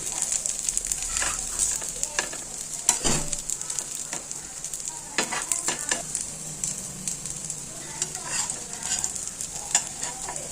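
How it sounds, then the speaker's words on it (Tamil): Plain veg cutlets fry in oil poured around them in a pan over a slow flame, a bright continuous sizzle with scattered scraping and tapping from a spatula nearby. "சுற்றி நம்ம எண்ணெய் ஊற்றிக்கிட்டோம்னா நல்லா ஃப்ரை ஆகிடும்"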